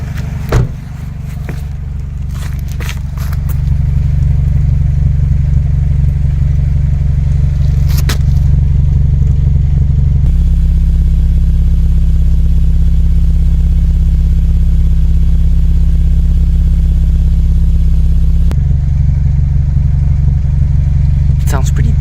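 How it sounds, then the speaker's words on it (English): BMW E46 idling through a cheap aftermarket muffler, a steady deep low rumble that holds for the whole stretch, loud and close, with a few brief clattery sounds near the start. "Sounds pretty deep. I'm not gonna rev it because I haven't changed the timing chain yet"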